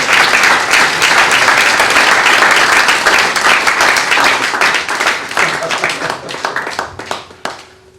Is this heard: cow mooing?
no